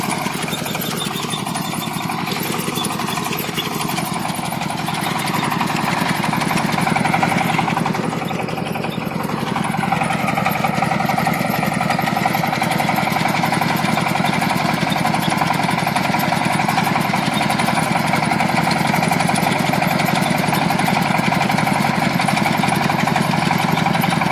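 A loud, steady Xingtai T24 mini tractor engine runs with a rattling, vibrating clatter from a mounted homemade vibrating potato digger, continuous and close throughout.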